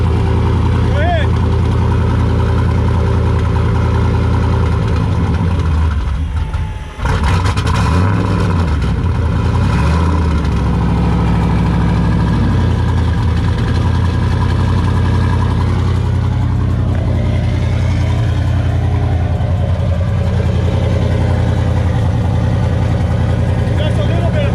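A race car engine in gear gets a short blip of throttle during an axle test, loud and close, then settles back to a heavy rumbling idle, with people talking over it.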